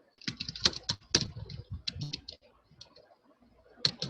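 C code being typed on a computer keyboard, with close, crisp key clicks in quick irregular bursts that pause, then return as a final stroke.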